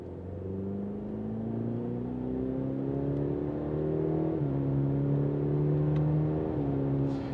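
Engine of a 2020 Cadillac in manual mode accelerating through the gears, a steady droning hum rising in pitch, with brief drops at each shift, heard inside the car with no talk.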